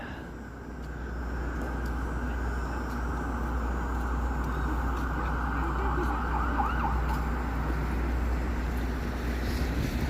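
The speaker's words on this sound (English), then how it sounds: "Still hear more sirens down there." Wailing sirens rise and fall faintly in the distance over a constant low rumble of traffic and ambient noise in downtown Toronto at night during light snow.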